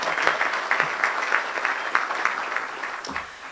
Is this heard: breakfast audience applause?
yes